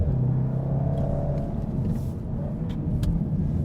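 A 2015 Volkswagen Golf R driving through a series of corners, engine rumbling steadily with a brief rise in pitch, heard from inside the car, loud and continuous, with a few faint clicks and no speech.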